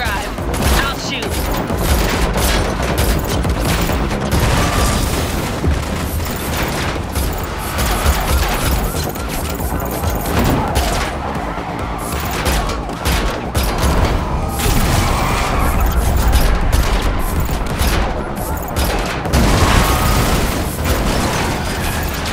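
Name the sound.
gunfire while driving in video game The Matrix Awakens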